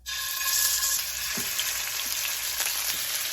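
Pork and chicken pieces sear in a hot pan, a loud close sizzle that starts suddenly and holds steady, with a few soft clinks and shifts of the meat.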